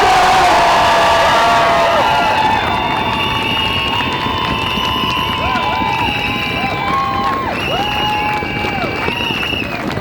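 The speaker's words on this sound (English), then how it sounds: "Let's get some applause." Crowd at a doctors' pay rally in Newcastle cheers and applauds loudly throughout, with whoops and shouts rising over continuous clapping, close and energetic.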